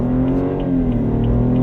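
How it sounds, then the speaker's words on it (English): A car's engine accelerates up close, a loud steady drone with a strong low hum and rising harmonic whine, no speech over it. "Slow-ass car."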